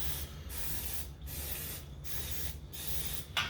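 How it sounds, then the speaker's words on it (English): Cooking spray hisses onto a baking pan for keto almond buns in four steady bursts with short pauses between them, close and clear, with a low kitchen hum underneath and no talking. "you want to make sure that it's a must that you spray your pan"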